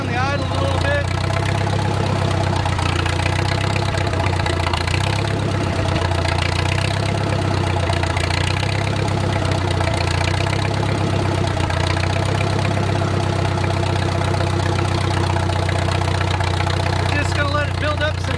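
Old wartime H tractor engine, revived after more than twenty years of sitting, idles with a steady, loud low chugging knock that keeps running evenly and unbroken throughout.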